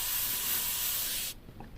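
H&S Infinity airbrush with a 0.2mm nozzle spraying smoke black paint, a steady close airy hiss lasting over a second before cutting off abruptly, leaving quiet.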